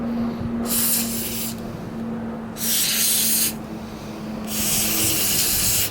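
Aerosol spray hisses onto a drone's power distribution board and flight controller in three long bursts of about a second each, close and loud, separated by short pauses with a steady low hum underneath.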